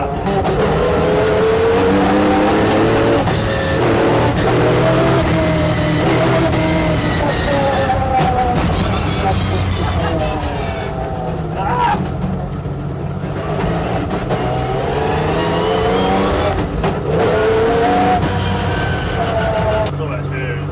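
One of Ayrton Senna's former rally cars revs and wails continuously, engine pitch rising and falling as it accelerates, loud and close throughout with talk beneath it.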